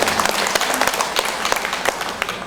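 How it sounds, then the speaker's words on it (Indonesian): Applause from the audience at a Muslimat women's religious gathering in Pringsewu Selatan, a fairly loud, continuous patter of many clapping hands with sharp individual claps standing out. "Tepuk tangan buat warga Pringsewu Selatan."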